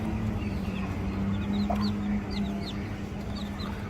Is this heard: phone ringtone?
no